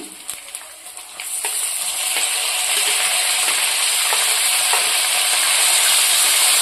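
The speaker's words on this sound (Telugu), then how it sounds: "ఇప్పుడు కట్ చేసి పెట్టుకున్న టమాటా కూడా యాడ్ చేద్దాము." Chopped tomato drops into ginger paste frying in hot oil for a cauliflower tomato curry, setting off a loud, steady sizzle that swells and holds close up, with a few light clinks at the start and no talking.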